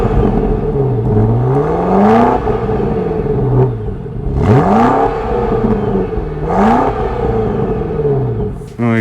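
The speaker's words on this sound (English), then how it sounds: "you can just listen to that engine growl and pop" A 2024 BMW X5 M Competition engine revs hard through its split quad exhaust with 4-inch pipes, giving several loud, close throttle blips that rise and fall in pitch with a deep growl between them and no talk.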